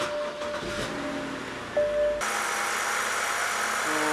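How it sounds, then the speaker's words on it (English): A BMW 328i's N52 engine comes to life and settles into a steady, low idling rumble that continues without pause. "now let's start the engine"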